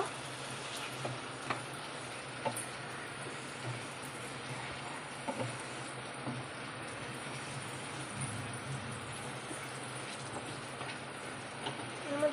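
Potatoes sautéing with spices in a pan during fish-head curry cooking, giving a steady low sizzle with faint stirring scrapes throughout, moderately quiet and without talk.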